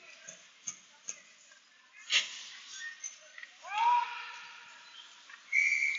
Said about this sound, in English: and a whistle